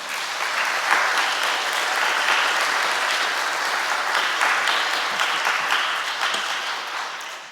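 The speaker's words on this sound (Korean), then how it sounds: "우리 집사님들께 힘찬 격려의 박수를" A church congregation at a Sunday evening service gives the deacons vigorous applause, dense sustained clapping that stays loud throughout and tapers slightly at the end.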